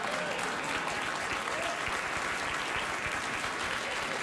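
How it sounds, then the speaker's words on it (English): A late-night talk show studio audience, The Late Late Show with Craig Ferguson in 2013, gives a sustained round of applause, dense and even from start to finish with no voices on top. "I think that warm round of applause from the audience says, yes, we'd like to see that."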